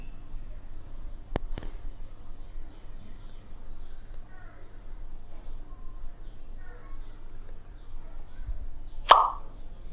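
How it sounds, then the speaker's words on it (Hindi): A single sharp pop like a bottle being uncorked, demonstrating the pop of hydrogen gas burning, arrives near the end after a quieter stretch with a faint earlier tick, close and brief. "पॉप साउंड कैसा आता है, जैसे कि बोतल खोलते हैं तो जैसा आवाज़ आता है उसको बोलते हैं पॉप साउंड।"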